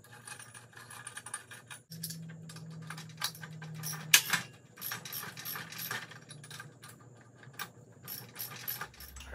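Ratchet wrench tightening a nylon lock nut on a JD Squared Model 3 tubing bender, close-up mechanical clicking in bursts with metallic clinks and a brief low hum, no talking.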